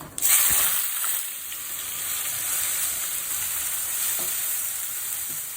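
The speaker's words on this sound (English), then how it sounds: "Add bay leaf, ilachi, jeera, grated onions." Bay leaf, cardamom, cumin and grated onions hitting hot oil in a pan for egg curry, a sudden loud burst of sizzling that settles into a steady, dense hiss with a couple of faint stirring knocks, close and continuous.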